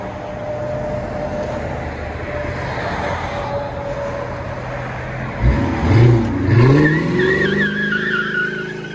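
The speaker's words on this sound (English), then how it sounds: "Charger with carbon R's, 2 1/4 all the way back into double wall 4-inch stainless steel tips." A 2006 Dodge Charger R/T with a 5.7L HEMI V8 and Carven R-series dual exhaust into 4-inch stainless tips, idling with a deep steady rumble before a loud rev swell and a rising, falling throttle burst.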